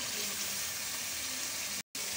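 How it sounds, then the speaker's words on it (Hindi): Water is poured into chicken karahi cooking in a pan, giving a steady soft hiss and sizzle that runs continuously and fairly faint, broken by one brief gap of silence near the end. "हम इसमें थोड़ा सा पानी ऐड कर रहे हैं ताकि हमारी चिकन को दम दे तो अच्छी तरह से गल जाए"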